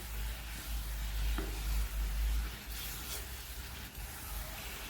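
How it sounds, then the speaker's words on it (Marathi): Gravy mixed with water comes to a boil in a pan, a soft steady bubbling hiss with a low rumble underneath and a few faint clinks, close and fairly quiet. "याला छान अशी उकळी येत आहे"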